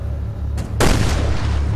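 Magnum revolver shot in the video game Resident Evil: Revelations 2: a single sharp, loud report cutting in over a low steady hum, followed by a short ringing tail.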